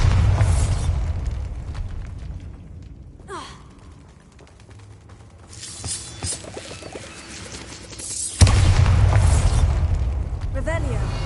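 A Bombarda spell blows apart in Hogwarts Legacy: after a quieter stretch with faint breathy sounds and stirrings, a sudden loud blast hits and its rumble lingers.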